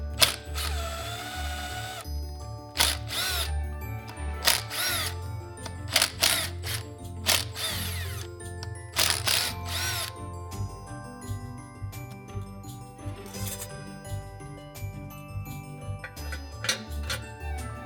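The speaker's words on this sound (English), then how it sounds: "Now we're gonna go ahead and remove all 6 of these screws." A power drill backs screws out of a Harley Dyna motorcycle clutch cover, with repeated short whirring bursts of varying length separated by pauses and small metallic clicks, close and loud.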